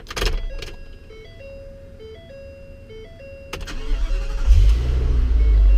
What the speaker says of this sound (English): Does kind of have a cool starter sound to it.